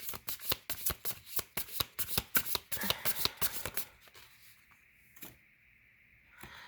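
Fairy oracle cards being shuffled by hand, a rapid run of crisp riffling slaps for about four seconds, then quiet with a couple of isolated card taps, close and fairly loud.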